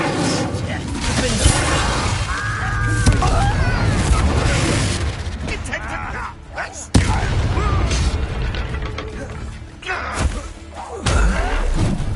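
An Incendio fire spell in Hogwarts Legacy goes off in loud booming, thudding blasts with crackling bursts, mixed with game voices and talk.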